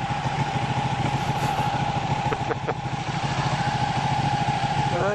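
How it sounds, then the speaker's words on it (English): A 2016 Ducati 1299 Panigale S idles nearby with a lumpy, pulsing twin-cylinder throb, steady and loud under wind, with a brief chirp of birds at the end. "The sound of the bike is coming across with you people."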